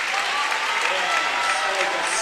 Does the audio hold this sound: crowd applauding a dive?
yes